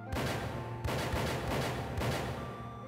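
Revolver shots from Nine Hours, Nine Persons, Nine Doors ring out as three loud, sharp reports in quick succession, each with a short echoing tail.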